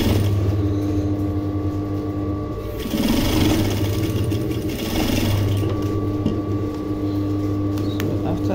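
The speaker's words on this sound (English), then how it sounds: "you sew this slowly, you don't need to rush, you sew as slowly as possible" A sewing machine stitches a princess dart bustier seam at an unhurried pace, its motor humming steadily with a soft rhythmic whir, dipping briefly partway through before carrying on.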